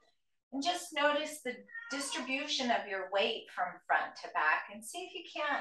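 A pet cat meows in the background during a yoga session, faint and intermittent beneath a woman's steady, continuous instruction.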